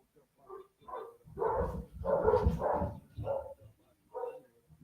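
Several dogs bark in quick, loud bursts, some yipping and overlapping, with short pauses between volleys and louder clustered barking in the middle.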